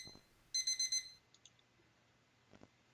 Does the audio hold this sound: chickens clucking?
no